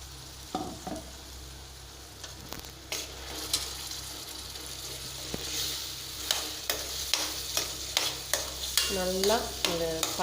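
Ground onion paste sizzles in hot oil in a pan for a potato gravy, with a steady frying hiss under repeated scraping strokes of a spoon stirring, growing more rhythmic toward the end.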